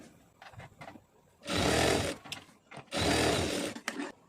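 A sewing machine stitches the shoulder seam of a lined blouse in two loud, close bursts of rapid needle clatter, with quieter handling clicks and pauses in between and no voices.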